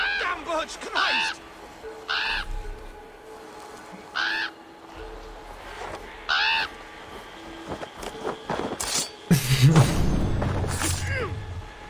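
Crow-like caws ring out in short, evenly spaced bursts in Assassin's Creed Valhalla, followed by a louder flurry near the end, with someone talking over the game audio.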